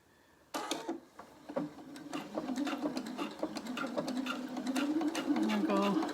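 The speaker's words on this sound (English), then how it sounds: "So now I'm gonna sew the next piece." Domestic sewing machine stitching through vinyl for a glasses case, a steady mechanical whir with rapid needle clatter that starts abruptly and runs continuously, growing slightly louder, close up with no talking.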